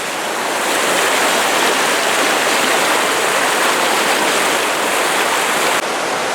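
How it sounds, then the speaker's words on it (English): A waterfall feeding a small river on the Rainbow Falls Trail in Gorges State Park, a dense, steady rush of falling water heard up close and loud throughout, with no voices. "some very flat-faced rocks off to the side of the waterfall, or the little river here"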